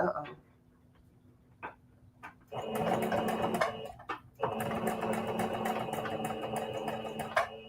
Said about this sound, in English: And I'm back stitching and moving forward stitch.